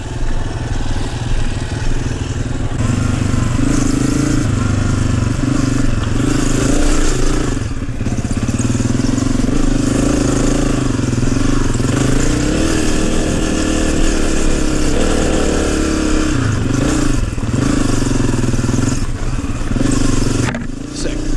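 Honda CRF250F dirt bike ridden along a trail, the engine droning loudly and continuously close by with shifting throttle, occasional revs and rattling clatter throughout.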